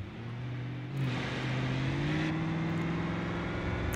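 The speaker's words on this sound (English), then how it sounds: "Okay, so different engine sound again. Oh, is this a diesel?" A steady, low diesel engine drone from an 80s American full-size car in BeamNG.drive, with a deep harmonic hum that shifts pitch slightly, like idling and pulling away, with no talking.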